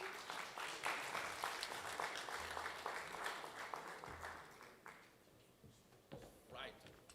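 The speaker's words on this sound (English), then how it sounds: "You clapped hands for him before I got to the stage" Audience at a University of Fort Hare UNESCO colloquium clapping hands in steady, moderately faint applause that fades after several seconds, followed by a voice.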